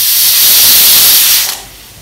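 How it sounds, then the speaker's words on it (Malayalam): Steam hisses loudly from a pressure cooker weight while kichadi cooks, a sharp close rush that holds steady and then drops away abruptly near the end. "അപ്പോൾ വെയിറ്റ് ആവി പോയി കഴിഞ്ഞിട്ടുണ്ട്. നമ്മൾ കുക്കർ തുറക്കുക."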